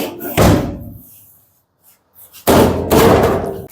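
A metal cover comes off an electric oven with two sharp clanking knocks, one early and a louder one later, separated by near silence and trailing off in a metallic rattle.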